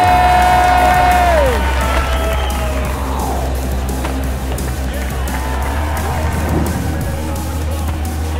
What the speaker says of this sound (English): There was a huge crowd lining the outside of the park. They took up every possible space in order to see the action. The noise was insane.